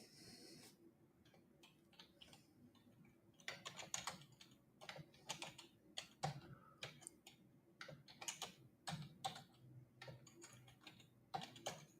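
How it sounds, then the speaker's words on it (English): Quiet, uneven keyboard typing, clicking keys in quick bursts with short pauses between, close by and alone. "You hear me typing."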